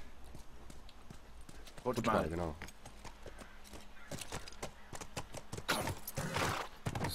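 Horse hooves clip-clop in The Last of Us Remastered, a steady walking rhythm of hoofbeats while someone talks over them in German.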